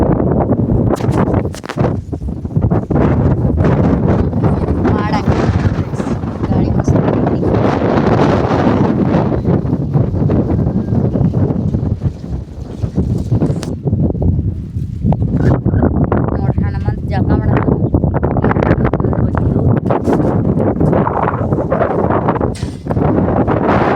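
Wind and rain buffet a rural home in Karnataka during the Nagara Panchami festival, a steady roar of gusts and rain noise battering the microphone throughout, with someone talking over it.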